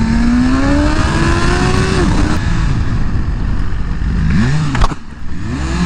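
A 2023 BMW S1000RR M package motorcycle, its engine winding up with a rising whine, shifting, and rumbling at speed, with a loud burst of revs and a brief dip near the end.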